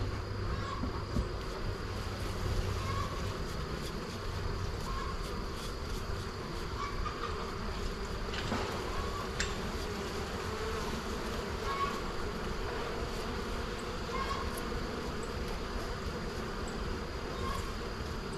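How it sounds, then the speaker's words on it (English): Honey bees buzz around a hive frame in a steady, faint hum that carries on evenly throughout, with no voices. "I got them bees off of it."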